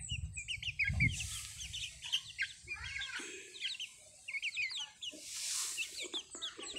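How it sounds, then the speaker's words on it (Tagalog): Three-month-old chickens on a small farm cluck and peep in short, scattered bursts. They sound close and fairly soft, with a few quiet gaps in between. "Maliit manok."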